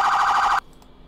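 A priority-mode police siren from the Flashing Lights video game, a loud steady electronic wail that cuts off abruptly partway through, leaving near silence.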